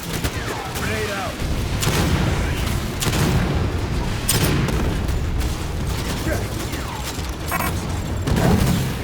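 Grenade blasts go off in the Aliens: Fireteam Elite 2 video game: several heavy, booming bursts land a second or so apart inside a dense, loud mix of gunfire and combat noise.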